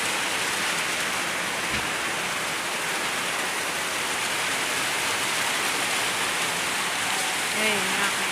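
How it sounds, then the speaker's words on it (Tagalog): Heavy rain pours down in a dense, unbroken hiss that stays constant and close throughout, with a faint voice briefly audible near the end. "Habang malakas ang ulan."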